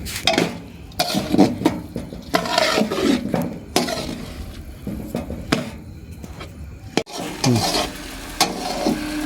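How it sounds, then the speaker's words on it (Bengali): Ingredients and spices for khichuri are stirred in a pot with repeated scraping, clattering strokes at an uneven rhythm, close and fairly loud, over a soft sizzle. "জিনিসপত্রগুলো ভালো করে নেড়ে ছেড়ে মশলার সাথে একদম সুন্দর করে মিক্স করে নিতে হবে"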